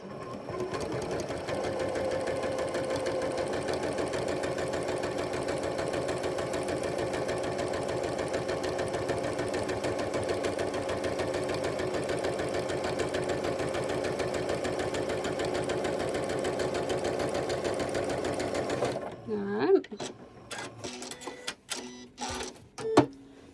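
A sewing machine stitches fabric for a sampler quilt block with a loud, steady, close mechanical whir for about nineteen seconds, then stops, followed by a few sharp clunks and handling knocks.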